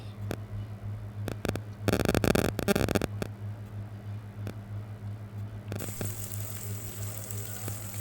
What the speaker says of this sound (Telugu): అలానే కట్ చేసి పెట్టుకున్న ఉల్లిపాయ ముక్కలు పచ్చిమిర్చి టమాటా ముక్కలు కూడా వేసుకుని కొంచెం అల్లం వెల్లుల్లి పేస్టు కరివేపాకు వేసుకుని ఇలా కలుపుకుంటూ ఫ్రై చేసుకోవాలి